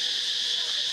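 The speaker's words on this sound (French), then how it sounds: "Putain de cigale, le son il est à fond là." Cicadas drone in a park in Cambodia, a steady, loud, high buzz that holds unbroken throughout, with no talking.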